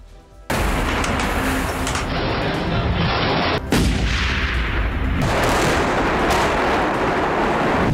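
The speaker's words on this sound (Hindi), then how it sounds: "जंग के मैदान में गाजा की धरती धमाकों से दहल रही है।" War footage from Gaza carries heavy explosions and artillery fire, a dense, loud, continuous roar of blasts and booming impacts with sharper cracks, unbroken by speech.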